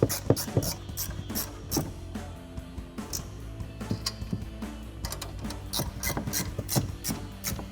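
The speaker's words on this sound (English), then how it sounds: "We'll get these threaded on and tightened down with our ratcheting wrench." A ratcheting wrench tightens 14mm nuts onto the studs of front coil-overs on a Silverado 1500, giving rapid pawl clicks in repeated close, steady bursts with metallic rubbing between strokes.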